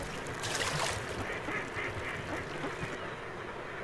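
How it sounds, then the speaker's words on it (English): Ducks on a lake in a Pakistani wetland at dawn quack in a busy, overlapping chorus, several birds calling at once at moderate distance with steady background ambience. "competing ducks clamor for their favorite spots."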